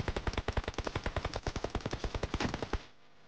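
Rapid automatic gunfire in PUBG Mobile rattles in a fast, even burst of about twenty loud, sharp shots lasting nearly three seconds before cutting off into quiet.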